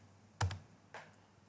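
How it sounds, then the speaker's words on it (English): A few soft keystrokes on a computer keyboard, two quiet clicks about half a second apart in an otherwise still room. "So here I'm just typing"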